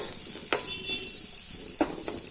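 Onions with salt fry in a pan, a soft steady sizzle broken by a few sharp scraping stir clatters against the metal, with no talking over it.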